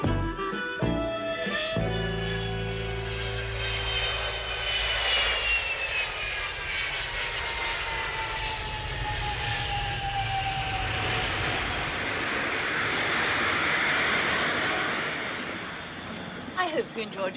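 Steady, loud airplane engine drone fills the cabin throughout, with a sharp clatter at the start and a voice speaking briefly over the noise.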